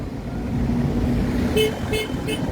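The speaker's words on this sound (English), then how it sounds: "Lots of traffic." Road traffic at Zaatara Junction in the occupied West Bank, with a steady engine rumble and three short car horn toots near the end.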